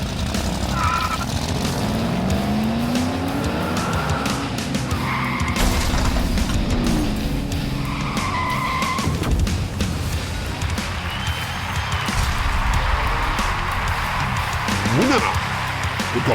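Diecast toy cars race down a track, a continuous rolling rumble with whirring and scraping, under a commentator's steady narration.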